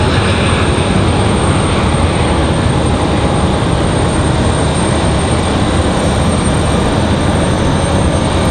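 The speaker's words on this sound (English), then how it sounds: "we do have that C-17 on the move" Boeing C-17 military transport aircraft on the move at Raleigh-Durham International Airport, a loud, steady, broadband jet engine roar that holds constant throughout with no talking.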